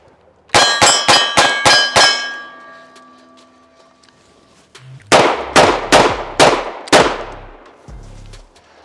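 A Smith & Wesson J-frame revolver, a Lipsey's UC 642 or 442, fires two quick volleys of five to six loud shots, each with a ringing clang from a steel target at the range, separated by a short pause.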